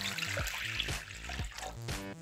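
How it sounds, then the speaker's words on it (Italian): Half a litre of lukewarm water pours steadily into a bowl for a powdered gel-making kit, a continuous close trickle with no talking. "Mettiamo nella ciotola mezzo litro di acqua tiepida."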